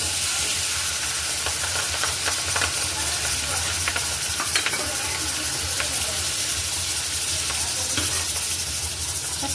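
Garlic and chillies sizzle in hot oil with cumin and asafoetida for a sweet corn curry, a steady, close, loud hiss with light crackles that continues throughout.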